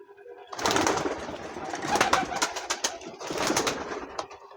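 Old Madras pigeons in a breeding loft coo and rustle close by, with bursts of louder, crackling bird activity and movement filling most of the few seconds.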